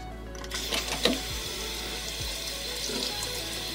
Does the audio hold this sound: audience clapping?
no